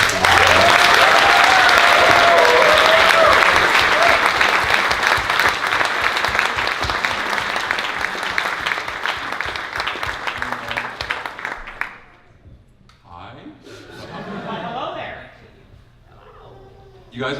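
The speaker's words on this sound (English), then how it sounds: "Please give a big round of applause." Loud, dense applause from a convention crowd at closing ceremonies, a steady roar of many hands for about twelve seconds with a voice and scattered cheers over it, then dropping away to quieter talk.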